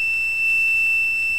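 An Arduino buzzer holds a steady, high, piercing tone with a faint regular pulse, loud and close for just over a second, with nothing else heard.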